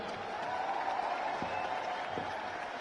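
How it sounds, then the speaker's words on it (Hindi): Crowd applause at a Bhim Army political rally honoring Nagina Lok Sabha voters: a dense, steady wash of clapping that carries evenly through the whole stretch at moderate loudness. "एक बार इनके लिए भी जोरदार ताली हो जाए।"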